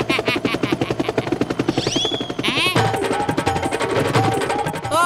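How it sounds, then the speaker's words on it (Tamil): Helicopter rotor chop in an animated 3D cartoon, a steady pulsing beat that stays loud throughout, mixed with cartoon sound effects and a rising whistle partway through. "ஓ நோ, ஹெலிகாப்டர் இந்த பக்கமா தான் வந்துகிட்டு இருக்கு."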